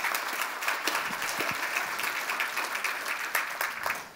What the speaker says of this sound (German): Bitte erstmal einen Applaus.